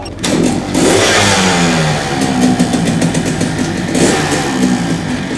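A motorbike engine revs loud and close, rising and falling through several throttle bursts over a rough running note.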